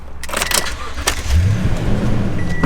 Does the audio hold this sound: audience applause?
no